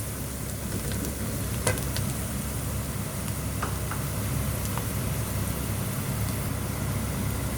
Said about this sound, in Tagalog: Bawang. Ayan, halu-haluin.